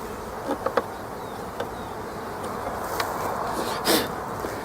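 Honeybees buzz around a beehive during a hive transfer, forming a dense, continuous drone with a few brief louder passes and soft knocks close by.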